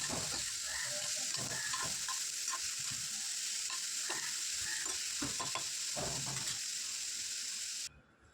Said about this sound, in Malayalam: ഇതെല്ലാം കൂടി ഒന്ന് ഇതുപോലെ ഒന്ന് വഴറ്റിയെടുക്കാം.